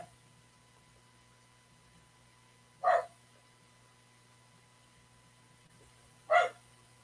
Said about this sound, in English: That's my little dog wanting attention.